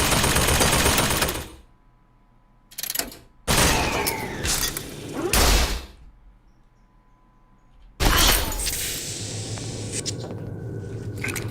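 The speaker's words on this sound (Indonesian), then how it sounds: "Ya udah kita habisin nih peluru shotgun." Repeated shotgun blasts from Bioshock Infinite's Burial at Sea DLC, loud broad bursts separated by short silent gaps, the last one trailing into a long ringing decay.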